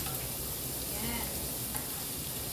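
Chopped onions fry in a hot pan for pork fried rice, giving a steady, low sizzle with light stirring scrapes, close but fairly quiet.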